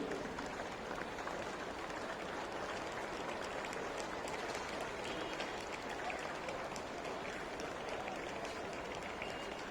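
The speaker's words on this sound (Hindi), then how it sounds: "ताली बजाने में आपको क्या जाता है?" An audience applauds at the opening ceremony of an all-India fire service sports competition, a dense, even patter of many clapping hands held steady for several seconds.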